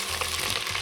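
Ginger and garlic paste frying in hot oil, a steady dense sizzle with faint stirring, close and even throughout a brief moment.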